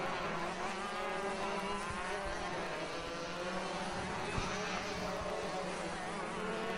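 Shifter karts racing on a track at a sprint heat, heard as a distant, faint, continuous buzzing engine whine that stays steady throughout with no talk over it.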